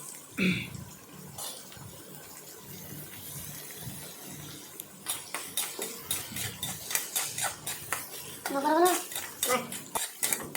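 Chopped onions are stirred in a cooking pan for paneer masala: scattered metallic scrapes and clinks of a spoon against the pan, growing busier and more rhythmic toward the end, with no talking.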